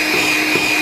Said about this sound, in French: je fouette les œufs entiers avec le sucre jusqu'à ce que le mélange double et blanchisse